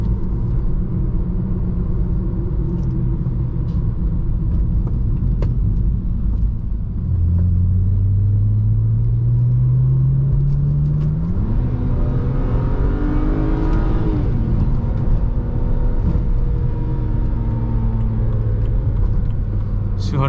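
A BMW E90 328i engine pulls hard at highway speed, its low drone climbing steadily in pitch as the car accelerates, then settling back into a steady cruising rumble under road and wind noise.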